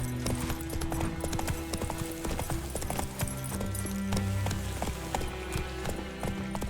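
A horse gallops in The Witcher 3 with a quick, steady clip-clop of hooves close up, over a layer of game ambience and occasional tonal effects.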